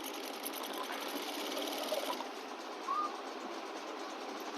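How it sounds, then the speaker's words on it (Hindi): Sewing machine stitching along the side of a pants pocket: a steady, close, continuous mechanical whir that runs throughout, with no talk. "तो हम पॉकेट के बिल्कुल बगल से सिलाई लगाते हुए लाएंगे"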